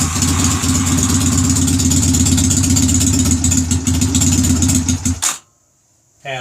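A Honda Rebel motorcycle with carburetor trouble, started without choke, runs at a steady loud idle for several seconds before the engine cuts out abruptly, leaving near silence.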